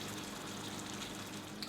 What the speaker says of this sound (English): I'm just going to add a little bit more water